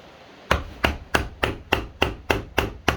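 Hammer tapping a flathead screwdriver on an engine part during a Coleman CT200U minibike engine teardown: nine sharp, evenly spaced metallic strikes, close and loud, with no talk.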